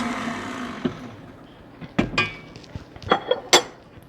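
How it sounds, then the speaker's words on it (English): A spatula scrapes the sides of a bowl of smooth crepe batter made with flour, giving several short scraping and clinking knocks spread across the moment, fairly close, with no talking. "I'm going to scrape down the sides so all my flour"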